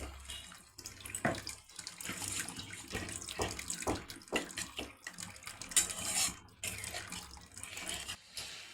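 Water is poured into a pan of cooked, fried spice paste while making a doi katla fish curry, a close splashing gush with sizzling and clatter in a home kitchen, no talk.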